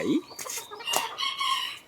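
A bantam chicken crows close by in a short, bright, rising-and-falling call broken into a few quick segments, heard alone with no talk over it.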